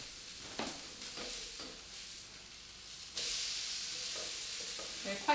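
Fritters in a frying pan, a soft crackling sizzle with light scraping as they are turned, swelling into a louder steady hiss after the flip, no voices.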